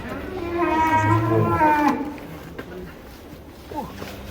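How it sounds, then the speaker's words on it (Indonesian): A very large cow at a cattle farm in Indonesia gives a loud, close, drawn-out moo lasting over a second, followed by quieter barn noise and a faint second call, with people talking nearby. "Ini dia sapi terbesar di Lembu Muda 2000 Farm, termasuk terbesar di Indonesia ini"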